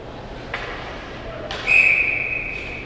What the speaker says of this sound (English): Whistle on the face-off